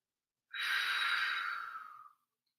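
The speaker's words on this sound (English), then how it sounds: "Nice deep breaths." A single long, deep exhale during a full-body yoga session, a breathy whoosh lasting more than a second and a half before fading out, close and alone.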